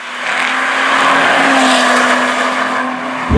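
A 2017 Lotus Evora sports car pulls hard under a quick stab of throttle, its engine holding a steady loud drone with a strong tonal hum and broad rushing noise for a few seconds, close and alone without talk.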